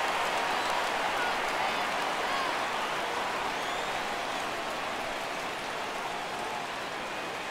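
Simulated stadium crowd in an MLB The Show 17 baseball game, Oakland Athletics vs Minnesota Twins, rising into a steady, loud roar and cheer on a full 3-2 count, sustained throughout like heavy rain.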